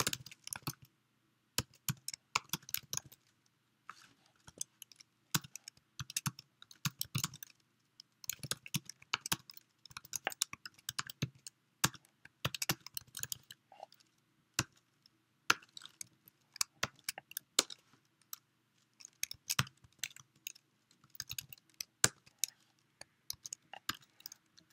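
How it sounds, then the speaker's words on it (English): Rapid, close typing on a computer keyboard while writing Python code, with irregular bursts of crisp key clicks and short pauses between runs, quiet and alone. "So I'm just going to type this out"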